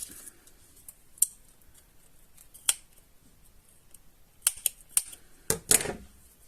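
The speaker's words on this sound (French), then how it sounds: "Hop, mes ciseaux." Several crisp snips of scissors cutting, spaced irregularly, a couple early and a quick cluster near the end, close and otherwise quiet.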